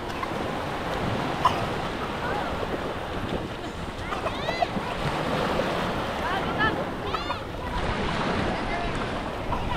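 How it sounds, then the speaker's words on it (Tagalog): Ocean surf on a beach at Morong, Bataan, rolling in as a continuous dense wash with wind buffeting the microphone, while people shout and talk over it nearby. "Medyo lumalakas na po yung alon."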